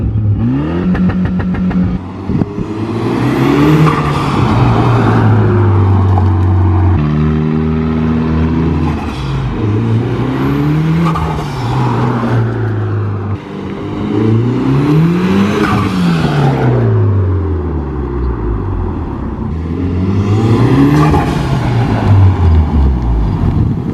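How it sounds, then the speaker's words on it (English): A Mitsubishi Evo with a turbo engine, cold air intake and blow-off valve revs repeatedly, the loud exhaust note rising and falling through several rev cycles with turbo whoosh between pulls, close and continuous with no talk. "Both the exhaust, the blow-off valve, and the intake, the cold air intake, they all combine to make a beautiful sound."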